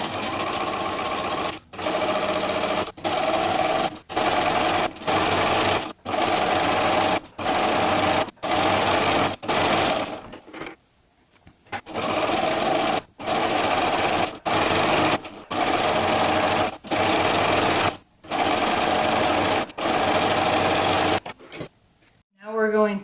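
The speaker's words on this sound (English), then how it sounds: "so it'll kind of bunch it up as I'm sewing" A sewing machine gathers fabric into wavy frosting for a cupcake costume, running in repeated loud bursts of rapid stitching separated by short pauses, with one longer break midway.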